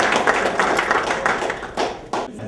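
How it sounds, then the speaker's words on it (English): Audience applause at a Ghanaian Independence Day celebration in Southampton, UK, a steady patter of many hands clapping, fairly close and continuous, with no speech over it. "just applaud them for taking time to be here"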